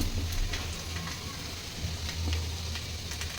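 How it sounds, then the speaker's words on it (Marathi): Curry leaves and spices such as cumin, ginger, garlic and coconut fry in hot oil for puri bhaji, giving a steady close sizzle with faint crackles and pops and no talk. "त्यानंतर थोडासा कढीपत्ता, त्याला छानसा लाल तांबूस कलर येतोपर्यंत आपण तेलात परतून घेतलं."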